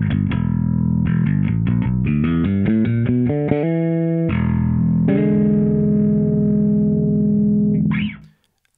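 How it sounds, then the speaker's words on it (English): Dingwall bass played through an amp rig with no drive pedal engaged: a run of close, loud plucked notes climbing in pitch, then a few longer sustained notes ringing out before a quick fade, with no talking. "so the rig without the anniversary pedal sounds like this."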